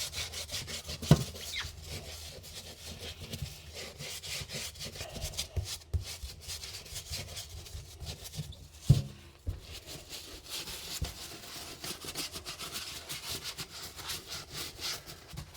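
A bristle brush scrubbing a leather work boot with soap and water, with continuous close rubbing strokes, a few sharper knocks and scrapes, and no talking.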